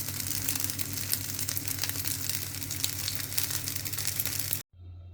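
Slices of chilli black pudding fry in a pan with a dense, steady sizzle, close and continuous, over a low hum before stopping abruptly.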